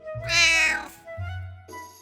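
A cat lets out a loud, drawn-out meow up close, followed by a shorter second meow after a brief pause.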